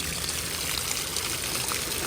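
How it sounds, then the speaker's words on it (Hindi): Cold stream water from a Naran Valley mountain flow pours into a bottle, a steady close trickling and splashing rush that stays even and fairly loud, with no voices. "बाकी इस बोतल में पानी भर के तो फिर हम आगे चलेंगे"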